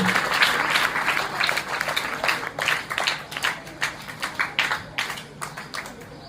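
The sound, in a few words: audience applause at farewell ceremony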